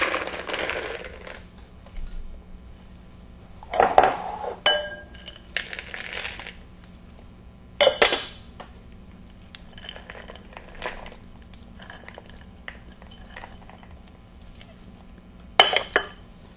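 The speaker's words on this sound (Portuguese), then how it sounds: "Basta colocar todos os ingredientes em uma tigela." Ingredients for a stollen filling, including chopped fruit and rum, go into a bowl with scattered clinks, taps and scraping of utensils against the dish, a few sharp knocks standing out over quiet pauses.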